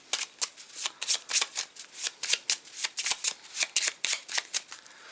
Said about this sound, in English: Then you're going to shuffle them without looking.